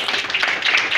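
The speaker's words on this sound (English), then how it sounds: "Clap for them." A short burst of clapping in a school chemistry classroom, steady and fairly loud for about a second with no talk over it.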